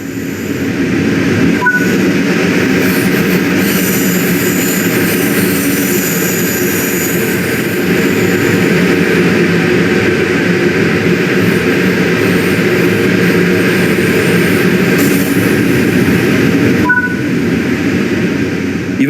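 A French TGV high-speed train running between Avignon and Marseille in Train Sim World, heard as a steady, loud rushing roar of motion with a constant hum and no letup from start to finish.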